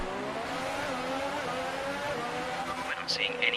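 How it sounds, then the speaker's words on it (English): A Formula 1 car's engine revs in the video game F1 2018, a steady high-pitched whine held throughout with a brief rise near the end, under someone talking. "Sitting here revving my engine for no reason."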